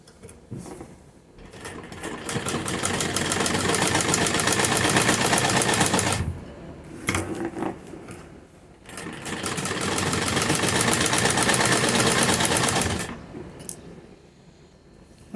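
An electric sewing machine stitches a box pattern on a salwar, running loud and close in two long steady bursts of rapid rhythmic clatter, separated by a pause with fabric handling and brief short runs.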